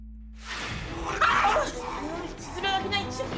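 A small dog growls and snaps toward family members, a short burst of guttural growling and yippy barks close by, followed by whimpering yips, with people talking around it.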